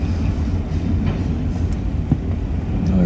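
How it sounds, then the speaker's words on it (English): An eastbound mixed freight train with Grand Trunk cars rolls past close by, a loud continuous rumble with faint rail clicks and squeaks, no voices. "we have a mid-train DPU coming, and then a stack train"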